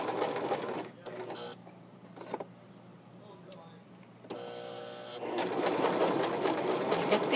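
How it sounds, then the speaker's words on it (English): A sewing machine stitches a pinned plain seam with a steady mechanical whir that stops and starts between runs. A voice talks softly underneath. "I'm going to slowly stitch forward, and as I come to each pin, I'm going to pull it out and keep stitching."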